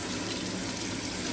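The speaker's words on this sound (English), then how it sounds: "It's not putting a lot of water out," Steady water streaming from a recirculating highbanker pump running desert dirt, a modest, even gush heard close and alone without talk.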